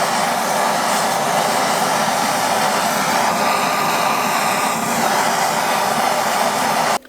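A heat gun warming a KTM 300 dirt bike steering stem bearing race, a loud steady blowing roar held close and constant until it cuts off at the end.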